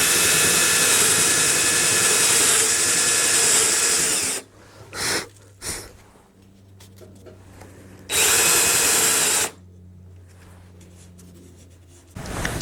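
A power drill bores a hole into a workpiece in a home workshop, drilling to 5/8 inch depth with a tape-flagged bit; two loud, steady bursts of whirring, each a few seconds long, separated by quieter handling noise.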